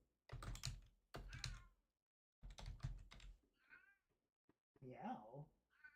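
A cat meows in the Vagrant Story video game, with short meows late in the clip after stretches of speech.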